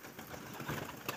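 Soft pigeon cooing, faint and somewhat distant, over a steady background hiss.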